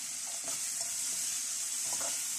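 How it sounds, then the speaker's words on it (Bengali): Chopped onion, cinnamon and cardamom frying with spices in a pan, a soft, steady hiss with a few faint stirring clicks, fairly quiet and close, no talking. "এখন আমি রসুন রান্না করার জন্য মশলাটাকে কষিয়ে নেব"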